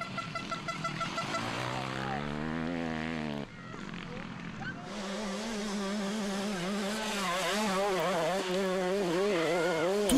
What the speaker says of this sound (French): Toujours aussi impressionnant au guidon de sa 125 KTM, Antoine Méo